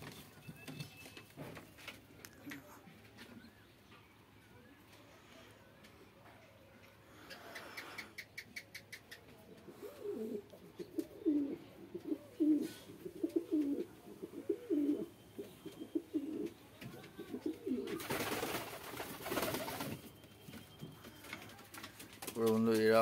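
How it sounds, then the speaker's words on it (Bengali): Fantail pigeons in a pigeon house coo softly in a run of repeated low calls through the middle, with wing flaps, scuffling and a loud burst of rustling near the end, plus faint voices in the background. "পায়রার ঘর, লক্কার বাচ্চা উঠেছিল"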